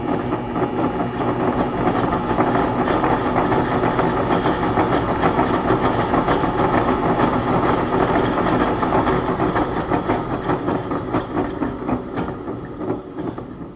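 A heavy-duty variable-speed ball mill driven by a treadmill motor, running at higher speed with a dense continuous rumble and rattling tumble that holds steady, then eases slightly near the end.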